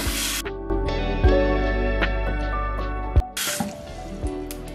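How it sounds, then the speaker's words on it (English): Water splashed onto a face at a bathroom sink during a skincare routine, a series of close, wet splashes and drips with a running tap trickling steadily underneath. "So now it is pretty warm, so I just kind of splash my face with water."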